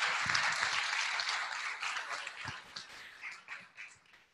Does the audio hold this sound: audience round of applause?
yes